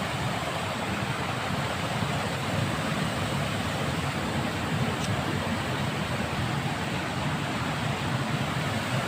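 Steady broadband rush of water flowing along a canal, constant and fairly loud throughout with no talking, the wash filling the whole span like continuous stream noise.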